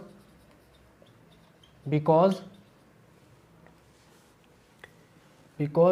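Chalk or marker scratches across a classroom board while a justification for a statement is written out, a faint dry scraping alongside short bursts of a teacher's speech.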